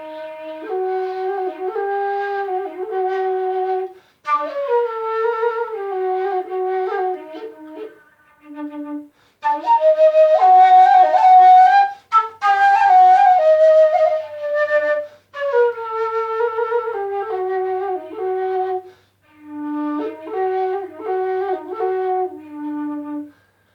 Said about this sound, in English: Bansuri is an Indian flute made of bamboo,